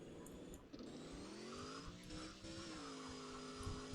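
Tracked Toyota Tundra in the off-road driving game Offroad Outlaws, its engine droning steadily with a rising and falling tonal whine, revving close and continuous without speech.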